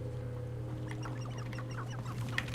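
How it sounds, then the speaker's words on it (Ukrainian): Chickens cluck in the video game Hogwarts Legacy, heard as a few soft, scattered chirps and clucks over a steady low background hum, with no talking. "Курки?"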